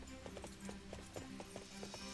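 Quiet rhythmic hoofbeats of horses moving at pace in the Fire Emblem: Three Hopes video game, an even clip-clop pattern under a dense game soundscape.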